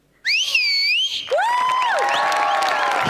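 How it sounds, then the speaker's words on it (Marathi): A piercing two-tone whistle rises and swoops inside a theatre, followed by a long shrill whistle over a building roar of crowd cheering and applause, loud and close. "ही शिट्टी तुम्ही जी भावना जागृत केलीत त्या भावनेसाठी आहे."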